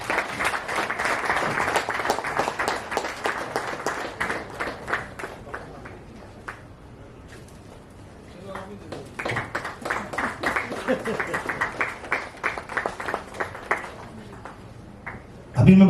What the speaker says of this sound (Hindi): जोरदार तालियां भाई साहब के लिए।